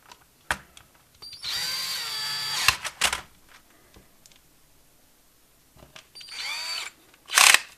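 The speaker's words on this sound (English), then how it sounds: "I have the screwdriver set not to apply too much torque." A torque-limited electric screwdriver whirs in two bursts while backing out screws from a Canon TypeStar 4 thermal typewriter, each run rising in pitch, with small clicks between and a short loud buzz at the end.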